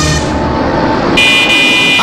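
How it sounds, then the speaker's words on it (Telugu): A lorry pulls up with a loud, steady horn blaring close by, the blast shifting to a higher, brighter tone partway through over rumbling engine noise. "లారీ సౌండ్ వచ్చింది"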